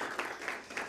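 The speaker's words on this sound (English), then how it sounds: "let me see you give a round of applause" Faint, brief patter of audience applause at a tourism and rural development talk show, distant and soft with a few louder claps.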